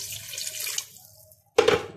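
Water is poured into a pressure cooker holding mutton and beetroot for a curry, a splashing gush that fades, then a brief silence and a second, louder abrupt pour.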